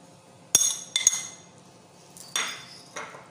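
Lemon juice, spices and mint stirred together in a bowl: a few sharp metallic clinks of a spoon against the bowl, fairly quiet and spaced out, with no talking.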